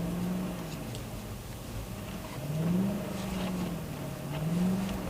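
A Mercedes-Benz E-Class AMG with locking differentials drifting at Mercedes-Benz World, Brooklands, the engine note rising and falling in repeated surges, heard at a moderate distance against background noise.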